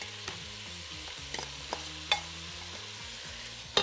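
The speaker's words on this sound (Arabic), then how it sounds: "نقليهم مليح مع البصل" Mushrooms fry with onion in a pan, a soft steady sizzle with scattered scraping stirs of a utensil, close and fairly quiet.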